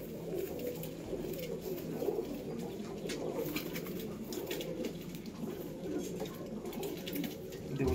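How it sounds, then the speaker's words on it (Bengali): A breeding pair of pigeons, a red-vein male and a flower-vein female, coo softly amid a noisy, dense loft background, with low throaty murmurs repeating faintly and continuously. "দেখুন এই একজোড়া পায়রা, লাল শিরা নর,"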